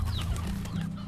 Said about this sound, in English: Put the rooster in here.